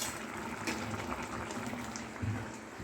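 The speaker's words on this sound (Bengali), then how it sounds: "এবার জলটা একটু শুকিয়ে নেবো দিয়ে নামিয়ে দেবো" Vegetable curry simmers in a pot as its water cooks off, a quiet, continuous bubbling with small pops and gurgles, close by and without speech.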